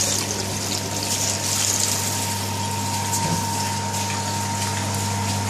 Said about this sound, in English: Make sure you wash your meat properly.